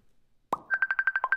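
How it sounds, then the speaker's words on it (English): Facebook app button sounds on a phone: a soft pop followed by a quick, evenly spaced series of about ten bright electronic blips, clean and close with nothing else around them. "This is what Facebook sounds like on my phone. Every button makes a sound."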